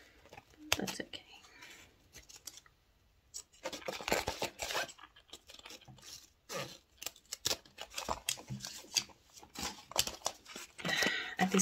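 Scissors snip through fabric in repeated bursts of crisp cuts, close up, with soft handling noises between them.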